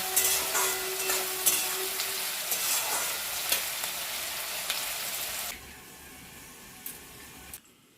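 Salted half-boiled jackfruit curry frying in a pan, loud continuous sizzling with scraping stirs that drops to a quieter hiss partway through, then a final clatter before silence, no speech.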